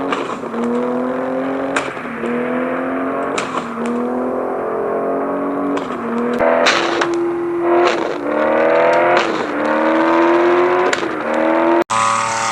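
A BMW engine in a mobile driving game revs up repeatedly in rising sweeps, dropping back at each gear shift and then climbing again, loud and close with no talking.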